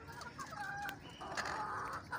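Hens and a rooster from a Misri poultry setup clucking nearby, short scattered calls over a low farmyard background, with no talk.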